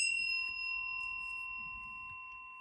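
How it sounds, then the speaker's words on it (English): A small bell used before a tarot reading rings once, its clear bright tone sustaining and slowly decaying on its own in a quiet room. "I'm going to go ahead and ring the bell for additional good juju"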